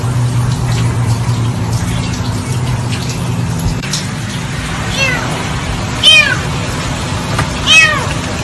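A kitten mews several times, short high cries rising late and close, over a steady watery hum while a dog rescues it; faint background noise underneath.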